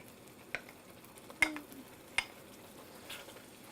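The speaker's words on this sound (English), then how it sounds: "And now I'm gonna add the chili paste." Chili paste is stirred into tomatoes in a sizzling pan, giving a low frying hiss with a few sharp clicks of a utensil against the pan, quiet and close.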